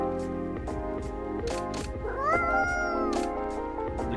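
A cat meows repeatedly in the video game Coffee Talk 2, several clear, close meows in a row with one longer rising call, over a steady background.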